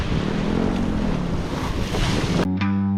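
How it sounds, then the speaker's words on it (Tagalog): Large waves breaking at a bayside promenade under strong gusting wind, a loud, dense roar of surf and wind buffeting the microphone that cuts off abruptly near the end. "At napakalaki ng alon."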